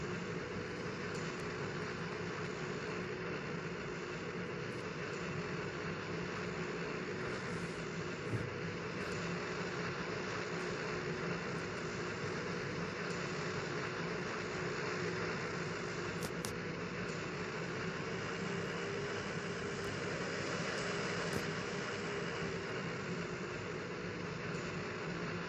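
A steady, distant engine drone from an airplane during takeoff holds at an even level throughout, with no voices.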